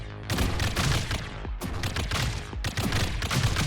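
Units in the Vectorio strategy game fire dense, rapid bursts of gunfire, a nearly unbroken loud fusillade of overlapping shots with brief dips between volleys.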